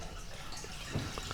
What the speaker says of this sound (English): we got water running in big time in it, but it's going right down the drain